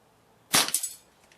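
A single sharp crack from an HW97KT air rifle fired outdoors from a bench through grass and leaves, a short, close report with a brief ringing tail, otherwise quiet.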